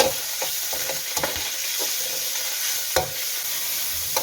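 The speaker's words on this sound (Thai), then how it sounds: "ใส่กระเทียมที่บุบไว้ แล้วเราก็นำหมูที่เราหมักไว้นะคะ ลงไปผัด" Marinated pork and crushed garlic stir-frying in a little oil for Thai rad na, a continuous close sizzle with sharp spatula scrapes and clacks every second or so.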